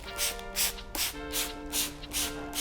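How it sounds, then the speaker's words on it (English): A spray nozzle hisses in about six quick, evenly spaced bursts close by, spraying carpet cleaner onto carpet, with a faint tonal hum underneath. "We're gonna go ahead and spray Carpet Bomber onto the carpet."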